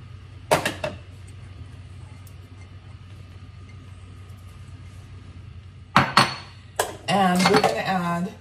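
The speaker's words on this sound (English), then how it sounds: "So we're gonna add the equivalent of a large chopped onion" A large chopped onion drops into a pan of olive oil with a couple of clattering knocks near the start, followed later by further utensil clanks and a loud burst of sizzling.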